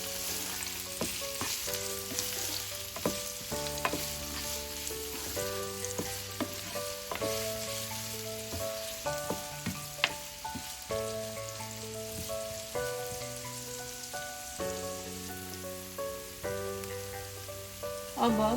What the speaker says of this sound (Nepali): तेल तातेपछि मैले यसमा राखेँ एउटा मिडियम साइजको प्याज, 2टा हरियो खुर्सानी।